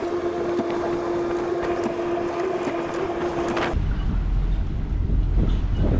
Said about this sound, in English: we basically operate the boat just by turning engines on and off